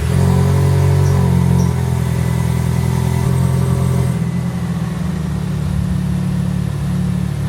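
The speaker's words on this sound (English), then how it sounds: "let's go ahead and start this thing up with the Nitop axle dump exhaust" A 2024 Toyota Tacoma TRD Off-Road idling after a cold start through a Nitop axle dump exhaust, a loud, close, steady low engine drone with a slight shift in tone partway through.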